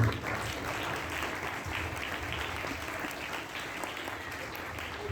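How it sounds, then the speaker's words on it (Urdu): Sustained, steady applause from a church congregation for the youth group at the feast of St. Anthony of Padua, a dense wash of clapping that holds evenly throughout. "تو ان کے لیے بھی زوردار تالیاں"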